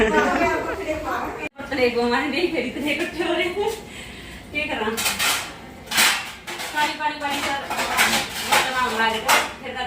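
Large pots and dishes clatter and clink as they are washed in a home kitchen, with repeated sharp metallic knocks scattered over steady, close conversation.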